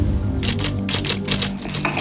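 A typewriter clacks out a quick run of keystrokes in short bursts, close and clear with no voices, over a steady low background hum.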